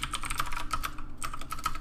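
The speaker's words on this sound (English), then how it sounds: "Sorry if my keyboard is like extremely loud." Loud computer keyboard typing with rapid, uneven clicking keystrokes, close and distinct, with a brief pause partway through and no voices.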